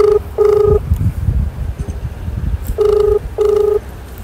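An outgoing phone call rings out with paired electronic ringback tones, two short bursts, a pause, then two more, loud and close over a low background rumble.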